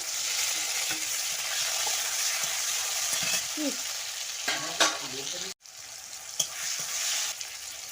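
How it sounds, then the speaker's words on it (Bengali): Onion and tomato fry in hot oil with bay leaf, five-spice tempering, turmeric and salt for a potato fish curry, giving a steady close sizzle with scattered stirring scrapes and a sharp clatter partway through. "পাঁচ ফোটন তেজপাতা ফোড়নে দিয়ে পেঁয়াজটাও দিয়ে দিয়েছি টমেটাও দিয়ে দিয়েছি"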